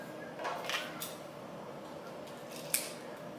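Scissors snip through the rubber skirt of a swim jig fishing lure in several quick, soft cuts, close and fairly quiet, with one sharper snip near the end.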